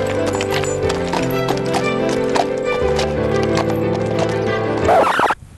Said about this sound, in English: This waterway was constructed so that horses like Jack here could haul trains of between 8 and 20 boats